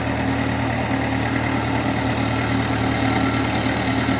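Mahindra B275 DI tractor engine running steadily while levelling a muddy rice field, a loud continuous diesel drone with a constant low throb and no talk.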